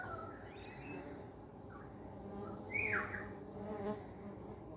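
Steady low buzzing of stingless bees around their hive, a continuous hum with a few brief higher chirps or calls on top.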